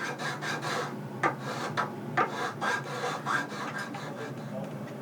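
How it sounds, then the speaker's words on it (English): A file rasps across the wooden top of a violin fingerboard and peg box during nut installation, making a close run of quick, rhythmic scraping strokes of even loudness. "He begins by filing the top of the fingerboard and peg box to set a smooth foundation for the nut."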